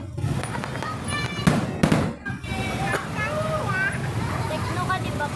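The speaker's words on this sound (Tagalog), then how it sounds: "Yan po ang fireworks ng SM San Fernando La Union" Grand-opening fireworks at SM San Fernando, La Union: a continuous barrage of bangs and crackles with sharp louder bursts, heard amid crowd babble and nearby voices talking.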